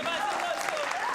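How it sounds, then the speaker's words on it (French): Audience applauding the partners at a Gabonese young musical talent showcase, a dense steady wash of clapping with a voice running over it throughout. "On applaudit très très fort pour nos partenaires."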